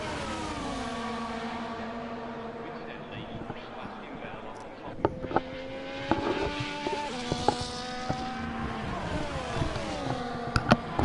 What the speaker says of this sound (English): Here we go then, safety car. Mercedes AMG safety car deployed.